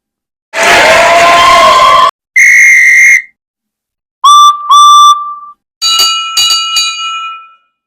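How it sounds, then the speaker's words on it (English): Loud bursts of shrill whistles and ringing tones sound one after another, with rough noisy cheering at the start, all close and prominent. "The crowd and the engines broke into a chorus of cheers and whistles for Edward the Blue Engine and Toby the Tram"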